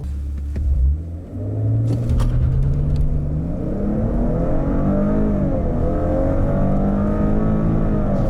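A 2017 Maserati Ghibli accelerating hard, its engine note climbing and revving through gears with a steady loud rumble after a brief dip near the start, heard alone without talk.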